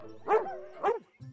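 Two loud, close dog barks about half a second apart, in an animated cartoon scene, followed by a softer low yip.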